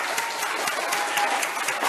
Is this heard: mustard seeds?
no